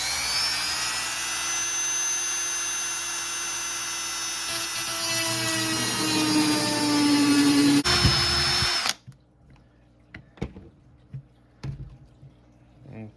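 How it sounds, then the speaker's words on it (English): Dremel rotary tool cutting into metal for an Arrma RC car spool, a loud continuous high-pitched whine with shifting tone for about nine seconds, then stopping abruptly, followed by scattered clicks and handling noises. "I'm gonna start off with the Dremel."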